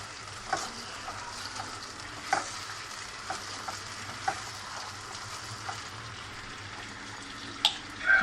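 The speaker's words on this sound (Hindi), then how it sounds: "2-3 मिनट भून लें इसे दही में।" Masala frying in yogurt in a pan, stirred with a spoon: a steady close sizzle with repeated scraping strokes and soft knocks against the pan, no talking.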